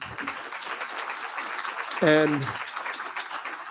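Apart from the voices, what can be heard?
audience applause for panelists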